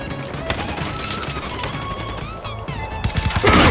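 Automatic weapon fire in a Call of Duty Mobile team deathmatch, steady loud bursts over game music and effects, building to a heavier, louder volley at the end.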